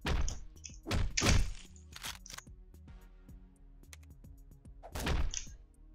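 Machine guns thrown in the Hotline Miami video game land as a few loud, close thuds and thunks. Quieter clicks and knocks come between them, with a final heavy impact near the end.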